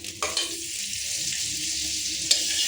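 Butter fries in a pan for a meat dish, a steady close hiss of sizzling with a couple of soft clicks early on and a sharp tap near the end, no talking.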